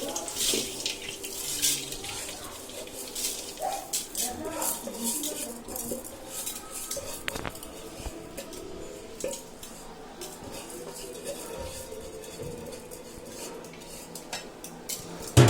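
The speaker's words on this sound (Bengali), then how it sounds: "তো আমার তেল গরম হয়ে গেছে, আমি চালটা এখানে দিয়ে দিই" Raw rice is poured into hot oil in a biryani pot on the stove, with a soft scattering patter, a light sizzle, and the clink and scrape of utensils against the pot, close and moderate in volume.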